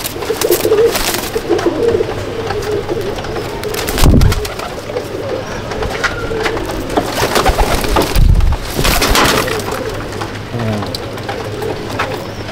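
Pigeons coo steadily inside a loft, a continuous murmur of overlapping calls with a couple of louder bursts along the way.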